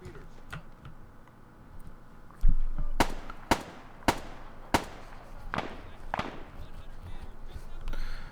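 Gunfire in the military video game Arma 3 during a firefight, heard as about six sharp cracks spaced roughly half a second apart, moderately close, over a low ambient background.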